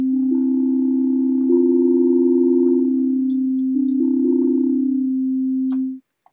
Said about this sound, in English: So I can have five notes at a time. They're distorting because it's too loud.